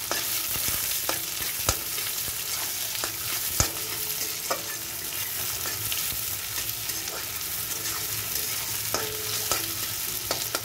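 Chopped onions frying in a pan keep up a steady, dense sizzle throughout, punctuated by occasional scrapes and taps of a stirring spoon, close and even in loudness.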